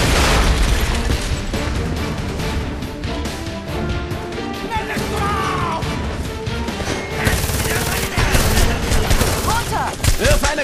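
Dense gunfire and explosions from the Homefront video game, with bursts of shots and booms rolling continuously and loudly over a busy battle mix, shouted voices mixed in.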